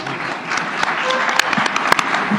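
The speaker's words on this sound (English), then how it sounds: "Let's give an extra round of applause to all of today's presenters." An audience at a symposium claps in a close, continuous round of applause with sharp individual claps standing out, and voices mixed in.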